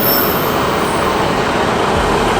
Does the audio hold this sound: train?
yes